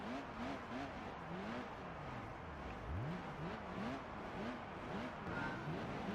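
Mazda car racing in Gran Turismo 3, its engine note climbing and dropping in repeated rev sweeps through gear changes, steady and fairly loud throughout with faint game sounds behind.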